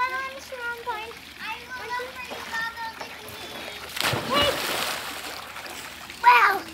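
A child jumps into a swimming pool with a loud splash and watery sloshing near the end, after children's voices chatter and call out beforehand.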